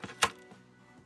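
A candle wick snipped about a centimetre long, heard as a sharp, close single cut followed by a couple of fainter soft clicks in a quiet room.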